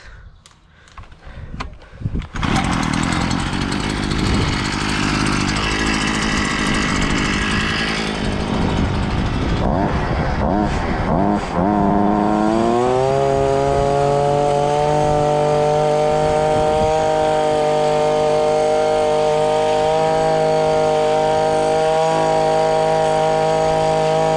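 A Parkside hedge trimmer starts up and runs, its loud motor whine settling into a steady, sustained buzz with strong tonal overtones, close and dominant throughout with no talk over it.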